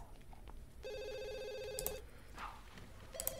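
A telephone rings in The Sims 2 University, a clear electronic trill that sounds once for about a second and then starts again, fairly quiet and with nobody talking.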